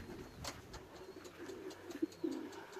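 A racing pigeon lands after a 359 km race and gives a faint, soft cooing, low murmurs growing toward the end over quiet outdoor ambience with a few light knocks.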